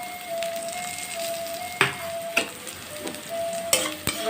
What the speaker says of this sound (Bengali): এবার ভালো করে এটাকে কষিয়ে নেব।